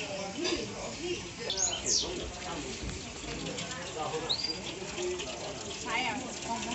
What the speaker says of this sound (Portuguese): E essa água vai e deságua ali na bica